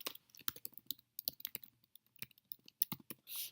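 Quiet, irregular clicking of keys on a computer keyboard as someone types, in short bursts with small pauses, close and alone.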